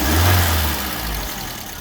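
Suzuki Swift engine being revved with its mass airflow sensor unplugged, a close, loud rise in engine note that peaks early then settles to a steady running drone, with no talk.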